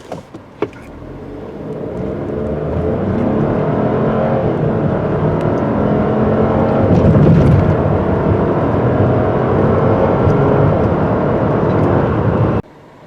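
A 2021 Chevrolet Trailblazer accelerates hard in sport mode. A loud, sustained engine and road roar builds and holds for about twelve seconds, then cuts off abruptly near the end.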